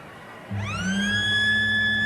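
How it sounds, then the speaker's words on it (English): A loud electronic full-time siren at a 1991 rugby league match between Canberra Raiders and Parramatta Eels kicks in and holds a steady, sustained tone over a low background rumble of crowd noise. "There's the siren now"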